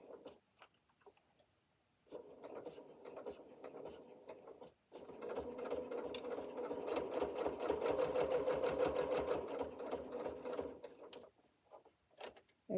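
A sewing machine stitches fleece mittens from scrap fabric around curves in short and longer bursts, a fast whirring chatter that starts, pauses briefly, then runs steadily before stopping, close and clear.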